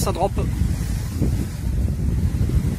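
Sailboat under sail off Ibiza with a reef in the sails, making about 5.5 knots. Steady wind rushes against the microphone and water washes along the hull, with a brief voice at the start.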